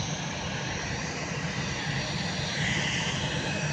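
Steady broadband engine roar of a departing airplane climbing away, a loud continuous rushing drone that holds and swells slightly toward the end, with no speech over it.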